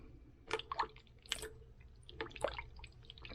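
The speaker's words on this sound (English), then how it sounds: "Going to add just a little bit of Worcestershire to that." Worcestershire sauce dribbles into a pot of red beans, a few quiet wet drips and squishy liquid splashes scattered over a few seconds, soft and close.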